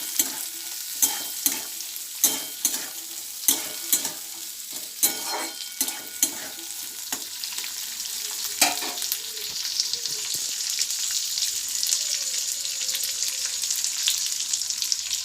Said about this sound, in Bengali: এবার এটাকে একটু ভালো করে নাড়াচাড়া করে নেব।